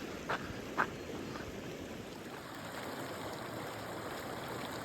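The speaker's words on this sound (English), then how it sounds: "This is Arkansas Creek." Arkansas Creek flowing along the Continental Divide Trail between Ghost Ranch and Chama, a faint, steady broadband rush of moving water, with a couple of brief soft knocks near the start.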